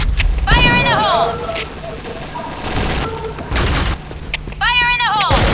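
Grenade blasts and bursts of gunfire ring out in the shooter game Point Blank, with loud booms and rapid shots mixed with shouted in-game voice calls.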